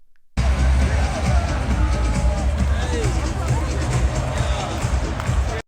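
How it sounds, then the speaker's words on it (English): Loud, dense crowd roar and babble fill a basketball arena during a Pacers vs Knicks game, a steady wall of cheering voices and hubbub starting abruptly and holding throughout. "the crowd was literally absolutely electric"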